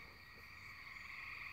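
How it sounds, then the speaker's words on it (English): Frogs croak outdoors in a continuous, dense chorus of high trilling calls, steady and moderately distant, with no voices over it. "there are frogs outside"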